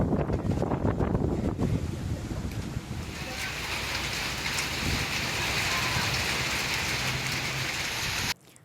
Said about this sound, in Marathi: सायंकाळच्या सुमारास सोसाट्याच्या वाऱ्यासह गारपीट झाली